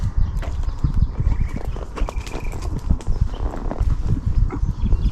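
Hooves of a Tennessee Walking Horse clop irregularly and close by as the horse steps backward, with dull repeated thuds and no talking.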